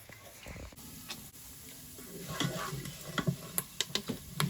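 Lemon rice sizzles inside an Instant Pot, a steady, fairly quiet frying hiss with stirring scrapes, and sharper crackles and pops grow more frequent toward the end.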